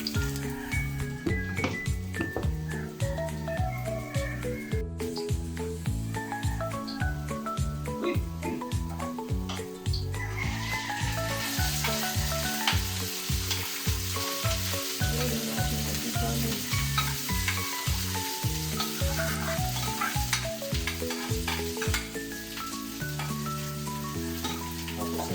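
Leftover rice stir-fries with cooked garlic in a hot pan, a steady close sizzle broken by rapid ticking scrapes of the spatula throughout.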